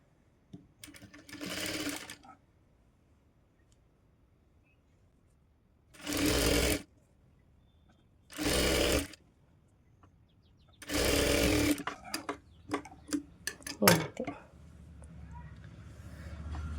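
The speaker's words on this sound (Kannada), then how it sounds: "ಇಲ್ಲಿ ಮೊದಲಿಗೆ ಒಂದು ಅರ್ಧ ಇಂಚು ಮಡ್ಚ್ಕೊಂಡು ಸ್ಟಿಚ್ ಮಾಡ್ಕೊಳ್ಳಿ" Sewing machine stitching a folded blouse hem runs in four distinct bursts of roughly one to two seconds each, separated by quiet pauses, close and clear, with faint handling noises between runs.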